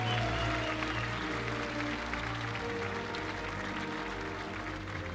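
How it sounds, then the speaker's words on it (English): Applause rises from a crowd at the GT World Series awards ceremony in Berlin, a steady wash of clapping held at moderate level under tonal music throughout, with no voices on top. "To a round of applause here in Germany."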